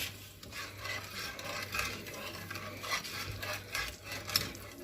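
Steady scraping and rubbing of a spoon stirring a sweet biscuit dessert mixture in a pot, with repeated strokes and soft clinks, close and moderately quiet throughout.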